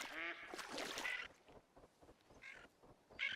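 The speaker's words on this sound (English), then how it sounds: "Gadwall, ferruginous duck are up here as well." Gadwall and ferruginous ducks quack in a duck-hunting video game, a short burst of nasal calls close together that then trails off into scattered quieter quacks.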